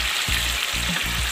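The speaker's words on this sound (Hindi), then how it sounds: "और इसके साथ ही हम लहसुन अदरक का पेस्ट डाल देंगे" Garlic ginger paste frying with chicken in a karahi, giving a loud, close, continuous sizzle with short bursts of stirring, and no talking.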